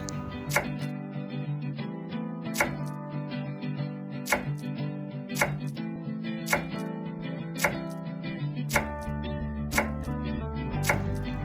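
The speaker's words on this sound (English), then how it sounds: "chopped coriander" Knife chopping fresh coriander on a board for an omelette, heard as about ten sharp, evenly spaced strikes roughly one per second, close and clear, with no one talking.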